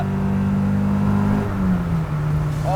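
A JDM Honda Civic Type-R with a 1.8L stroker engine revs hard on Mission Raceway, a loud, sustained engine tone close by that steps down in pitch partway through as the car shifts or eases off.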